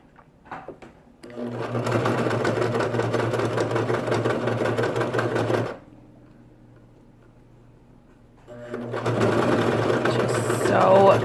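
A sewing machine stitches a seam on hand-cut wool mittens, running steadily with a fast mechanical ticking, pausing for a few seconds, then starting up again, with a voice talking over it.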